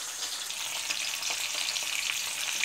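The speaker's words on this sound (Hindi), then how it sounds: "गोभी को मैं चलाते हुए अच्छे से फ्राई कर लूँगी" Cauliflower frying in a pan while being stirred, a bright continuous close sizzle with light scraping, no voices.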